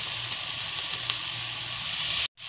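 Garlic hisses in hot oil in a pan for Arabian-style macaroni, a steady, bright sizzle close by that cuts off abruptly near the end.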